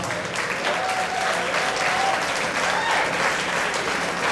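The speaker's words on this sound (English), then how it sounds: "Again, let's give these veterans a big round of applause." Outdoor picnic crowd applauding veterans: continuous, even clapping from many hands throughout, fairly loud and unbroken.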